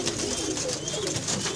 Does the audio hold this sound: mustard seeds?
no